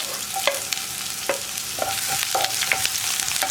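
Chopped onion goes into hot coconut oil with popped mustard seeds for kumbalanga payar mezhukkupuratti. It makes a continuous close sizzle broken by scraping stirs and sharp crackles, with no talking.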